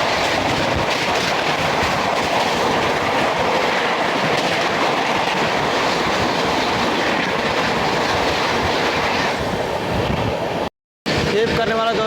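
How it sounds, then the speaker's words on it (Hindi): The New Delhi–Ballia Superfast Express rushes past near Phaphund station, a loud, continuous clatter of wheels on rails with rhythmic clickety-clack. It is heard close by and steady until a brief break near the end. "सामने से आ रहे दोस्तों नई दिल्ली बलिया सुपरफास्ट एक्सप्रेस"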